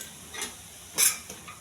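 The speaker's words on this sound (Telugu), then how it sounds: "బాగా కలపాలండి." Soaked chana dal is stirred by hand with chilli powder, turmeric and salt, giving a few quick, soft scraping swishes close by, the loudest near the middle, with no voices.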